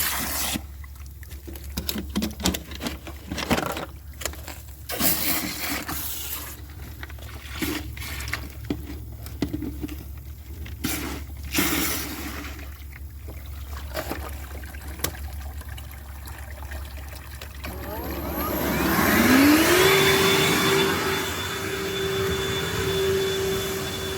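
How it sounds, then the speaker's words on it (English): A high-pressure drain jetter cleans out a drain line on a residential drainage project, giving a steady hiss with trickling, splashing water and scattered knocks, then a louder engine-like drone that rises in pitch near the end, with no voices. "I'm going to jet and clean that as well."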